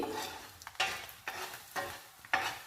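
Egg pieces frying in oil in a pan until golden, with steady sizzling broken by four scraping stirs of a utensil at roughly half-second intervals, close and moderately quiet, no voices.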